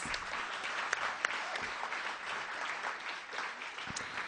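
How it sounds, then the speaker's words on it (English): Audience at a traditional music festival claps steadily in a moderately sized room, a continuous even patter of hands with a few sharper individual claps standing out, no voices over it. "Please give her a round of applause."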